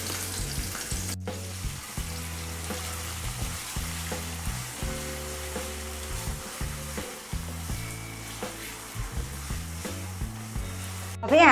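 Chili paste and ginger-garlic paste fry in a pan for palak paneer, giving a steady, moderately loud sizzle with intermittent low clatters from stirring and no speech over it.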